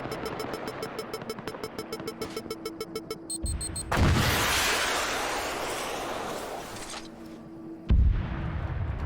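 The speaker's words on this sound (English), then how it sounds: "There was a rocket hit there, it got one guy." A rocket blast in the Arma 3 military game arrives as a loud, close explosion that rolls into a long roaring decay. A sharp second boom follows a few seconds later, over a backdrop of rapid rhythmic gunfire and battle noise.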